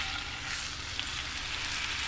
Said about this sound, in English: Just sear the meat, all sides.